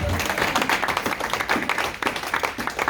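A church congregation breaks into applause, a close, lively patter of many hands clapping continuously for a few seconds, with some voices mixed in.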